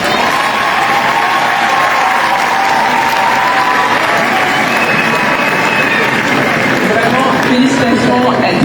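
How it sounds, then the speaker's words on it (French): Sustained, dense applause from an audience congratulating a contestant at an eloquence competition, loud and steady throughout with some crowd cheering mixed in. "Ouais, vous pouvez vraiment l'applaudir."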